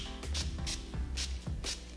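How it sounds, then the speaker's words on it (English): NYX Dewy Finish setting spray misted from a pump bottle in four short hissing bursts, evenly spaced and close to the microphone, with nothing else audible. "So I'm using the Dewy Finish NYX setting spray"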